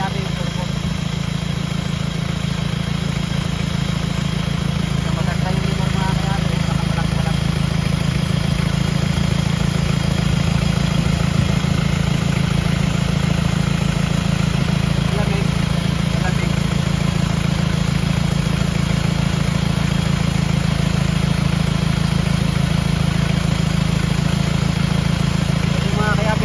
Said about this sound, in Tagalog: Umuho na yung turbo. Mga kayabi. Maka-function yan mga kayabi yung turbo.